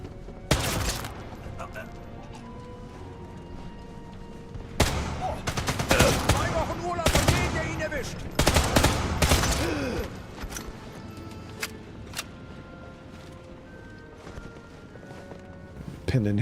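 Enemy gunfire in the video game Sniper Elite: Resistance comes in loud, sharp bursts of shots, clustered in a couple of heavy volleys with scattered single cracks between them, while a voice talks.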